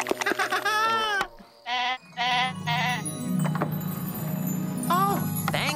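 Several distinct sheep bleats, wavering and nasal, sound up close in a cartoon scene, separated by short gaps, with a voice speaking between them and some clinking underneath.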